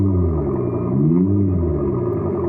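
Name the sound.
electric car's artificial engine sound from speaker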